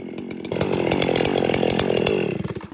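A Stihl 500i chainsaw with a 28-inch bar runs loud and close, its engine holding a rough, high-revving buzz for a couple of seconds before dropping off.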